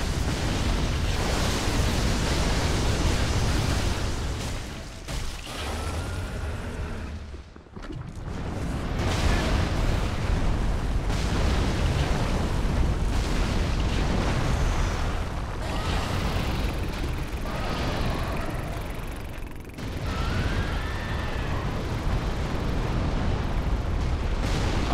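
A ballista fires at the player in Dark Souls III, producing heavy, explosive blasts and rumbling impacts within a continuous roaring wash of noise, broken by a couple of brief lulls.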